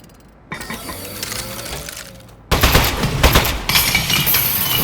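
Turret in the Aperture Desk Job video game fires in loud rapid bursts, a short stuttering volley first and then a heavier sustained stream of shots, with no talking.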